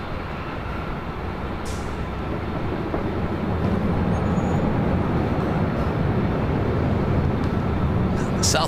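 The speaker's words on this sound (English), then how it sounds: "Southwest flight is 2922 heading to Las Vegas. 737 at MAX 8." A Southwest Boeing 737 MAX 8 jet roars at LAX, its broad rushing engine noise swelling louder partway through and staying strong, with voices talking over it.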